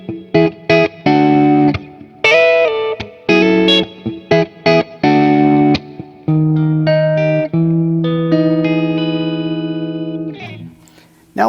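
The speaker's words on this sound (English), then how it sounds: "So let's start with the neck split and the full humbucker on at the same time." Harley Benton electric guitar with the neck pickup coil-split and the full bridge humbucker on together, played as clean close chords and single notes, choppy strummed bursts giving way to longer ringing notes that slowly fade.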